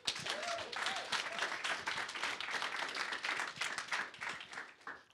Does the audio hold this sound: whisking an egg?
no